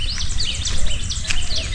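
Small sparrows chirp near a dry, thorny pond edge outdoors: quick, bright, overlapping tweets come in bursts close by, over a low rumble of background noise.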